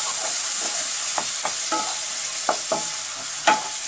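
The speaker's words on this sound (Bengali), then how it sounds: "হাই ফ্লেমে এটাকে আমরা একভাবে নাড়াচাড়া করে যাব।" Spiny gourd and coconut mixture with spices is stirred on high flame, a steady hiss of frying under repeated spoon scrapes and clacks against the pan, close and fairly loud, with no voices.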